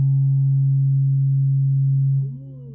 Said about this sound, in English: This is the tuning fork.